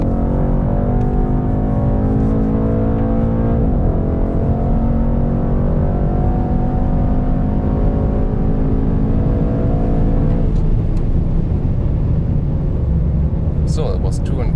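A Mercedes-AMG E63 S with a 612 hp V8 pulls hard at full throttle, its engine note rising continuously with two audible gear shifts, loud and steady throughout.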